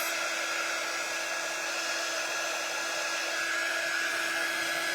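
A hair dryer blows steadily at close range, drying paint on the nose of a craft snowman, a loud, even whirring hiss with no pauses and no talking.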